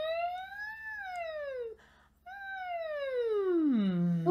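A human voice imitates a siren, sliding smoothly up and down in long rising and falling glides with a short gap midway, then a final long downward swoop, close and fairly loud.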